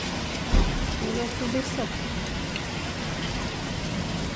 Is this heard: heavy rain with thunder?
yes